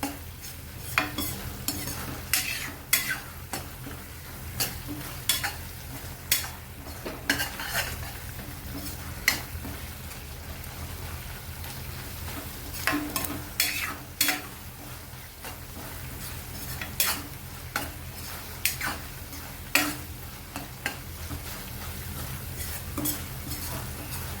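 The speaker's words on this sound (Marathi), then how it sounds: "मसाला आपल्याला घट्ट होईपर्यंत चांगला परतून घ्यायचा आहे." Masala is stirred and sautéed in oil in a pan for a paneer chingari curry, with regular metallic scrapes and taps of the spatula against the pan over a low, steady sizzle, with no talk.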